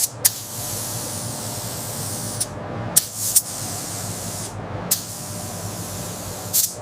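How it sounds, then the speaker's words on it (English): Spray gun laying factory Hyundai Blue paint onto a restored Hyundai cement mixer truck: several long, steady hissing bursts separated by brief pauses, close and alone. "using a precisely controlled spray gun, we apply the factory-correct Hyundai Blue"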